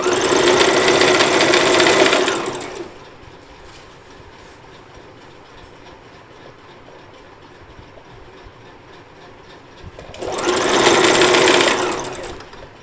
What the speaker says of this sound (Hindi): इसे घुमाते रहना है और इसको ऐसे रखकर सिलाई लगाते रहना।